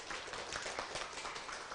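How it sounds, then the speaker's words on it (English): Audience applause for lecturer Dr. Ivan at the close of a summer course session on coding theory and cryptography, a steady wash of many hands clapping throughout, fairly faint and even with no voices over it. "Please give a big applause, Dr. Ivan."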